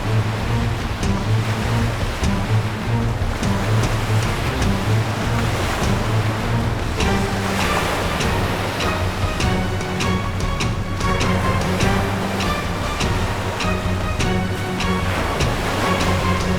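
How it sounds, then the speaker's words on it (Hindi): Floodwater rushes and roars continuously as a steady sound effect, with a faint tonal music bed running underneath. "परी, अगर हमने जल्दी ही कुछ नहीं किया तो ये पूरा परिलोक पानी में डूब जाएगा।"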